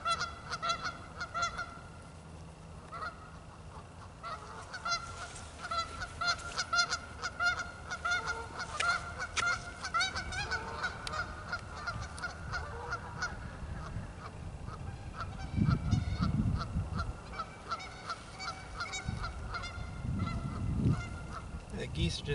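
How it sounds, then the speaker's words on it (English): A flock of geese honks repeatedly and raucously outdoors in the morning, the calls overlapping at a moderate distance in a long continuous chorus, with a few soft brushing sounds and occasional talk nearby. "The geese are just having a time this morning, aren't they? Sound like they're having a party."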